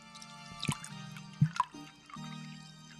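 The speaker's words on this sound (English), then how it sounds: "Add heavy whipping cream in a saucepan over low heat." Heavy whipping cream drips and splashes into a saucepan in a few soft, close liquid bursts, then a brief trickle, quiet with no talking.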